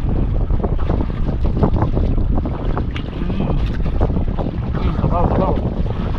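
Strong wind buffeting a fishing boat out at sea, roaring steadily against the microphone with choppy water and rattling deck noise, and a voice briefly audible underneath.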